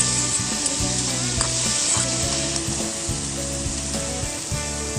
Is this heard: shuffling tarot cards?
no